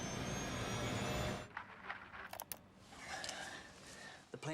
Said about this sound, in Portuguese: O avião está caindo. Dá para ouvir os motores.